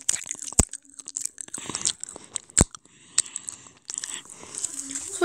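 Up close, a child bites and chews crunchy ABCD chocolate, with a few sharp snapping bites followed by softer crackling chews amid quiet mouth sounds.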